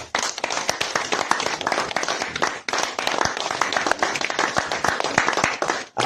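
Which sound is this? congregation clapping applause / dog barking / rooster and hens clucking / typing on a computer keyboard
congregation clapping applause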